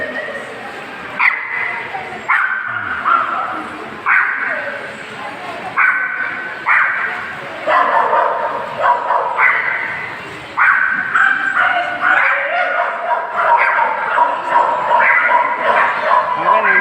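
Several dogs bark, yip and whimper repeatedly at a dog vaccination event, the sharp calls recurring in bursts throughout while people talk in the background.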